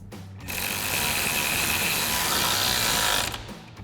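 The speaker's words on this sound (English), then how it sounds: "we'll grab our T40 Torx bit and we'll go ahead and tighten these down" A power driver with a T40 Torx bit runs bolts down on a Bestop Supertop Squareback soft top fitted to a Jeep Wrangler JL, giving one steady, close mechanical whir of about three seconds between brief quiet moments.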